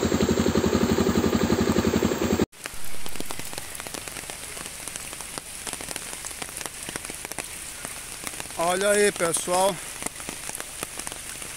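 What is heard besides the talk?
heavy rain falling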